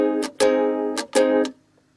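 Close ukulele strumming an alternate chorus pattern: two pairs of ringing chord strums, each broken by a quick muted chop, then a fade to quiet.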